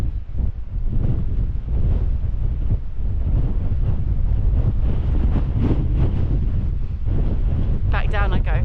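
Strong wind on the Welsh mountain Y Garn in Snowdonia, roaring loud and constant against the microphone with deep buffeting gusts throughout.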